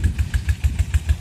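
A 20 HP NR diesel engine drives a water pump irrigating rice paddies, chugging with a steady, fast, rhythmic thump close by, loud and even with no talk over it.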